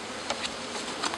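Honeybees buzz around a hive box in a Danish apiary, a faint steady hum with a few brief louder passes of single bees close by.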